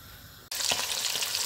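Fish hits hot cottonseed oil over an open fire, and a sudden loud, steady sizzle breaks out after a brief quiet hiss and keeps crackling close by.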